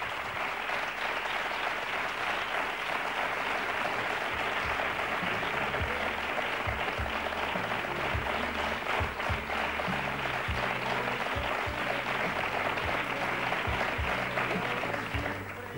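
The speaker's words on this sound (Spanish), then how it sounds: "Este aplauso que te mandamos por aquí es para ti" A large studio audience applauds steadily and loudly throughout, a dense, sustained wash of clapping at a televised Spanish tribute show with no pause.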